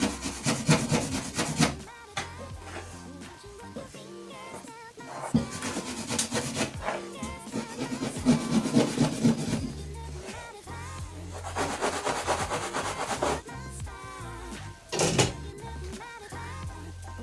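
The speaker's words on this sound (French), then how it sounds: "prenez le grattoir, revenez à vos coupures et grattez-les pour un effet beaucoup plus destroy, sans élargir forcément les trous" A scraper rasping against cut slits in a cotton tank top, coming in rough bursts of scratchy strokes separated by short pauses.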